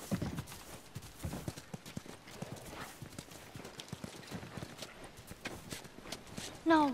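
Horse hooves clip-clop at a walking pace in The Last of Us near Tommy's hydroelectric dam, a steady run of light, close knocks with faint voices underneath and a brief tonal sound at the end.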